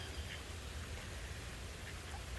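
Steady rain falls outdoors near a flooded dock, a dense, even hiss with a low rumble and no break or voices.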